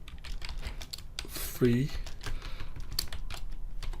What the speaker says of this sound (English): I would just type learn